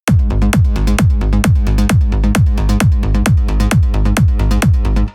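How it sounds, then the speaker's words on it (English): A driving trance kick drum locks with a rolling mid bass in a steady, loud four-on-the-floor pattern, punchy low thumps alternating with pulsing bass notes, running without pause before cutting off. "The kick and bass then sounds like this."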